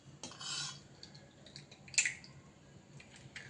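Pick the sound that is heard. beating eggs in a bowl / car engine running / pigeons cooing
beating eggs in a bowl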